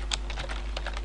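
A burst of several quick keystrokes on a computer keyboard while entering PHP and MySQLi code, close and fairly loud, irregular clicks over a low steady hum, with no voices.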